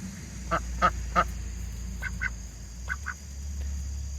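Drakes on a backyard poultry farm give a run of rasping quacks: three close together, then two pairs after short pauses, near and fairly clear over a steady low hum.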